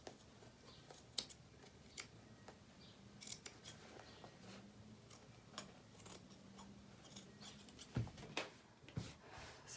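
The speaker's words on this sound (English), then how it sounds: "I'm going to cut those pockets out" Scissors snipping through denim as pockets are cut out of a jean jacket, faint scattered clicks and soft crunching cuts over a quiet room background.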